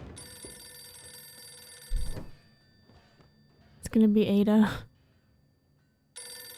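Old-fashioned telephone bell ringing in a 1920s-era TV drama, one bright harmonic burst lasting under a second, with a thud and a voice speaking before it.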